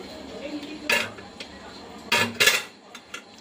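Ridge gourd pieces are tipped into cooked dal inside a pressure cooker, giving a few clattering clinks of metal utensils against the pot, with scattered softer knocks and taps between them.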